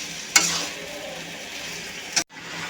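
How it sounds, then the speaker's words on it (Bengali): Pre-fried chicken stirred into spices in a pan, giving a steady close sizzle with two sharp clanks of a spoon against the pan. "এখন এই ভেজে রাখা চিকেনটা দিয়ে দেব। ভালো করে মশলার সাথে মিশিয়ে"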